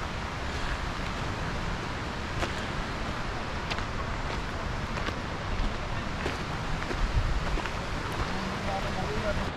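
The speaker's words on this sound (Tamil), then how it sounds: "அருவிட சத்தம் கேட்குது, காற்று எல்லாமே சூப்பராக இருக்குது." A steady, broadband rush of the Bridal Veil Falls waterfall mixed with wind buffeting on a hike in Canada, constant and fairly distant with no distinct events.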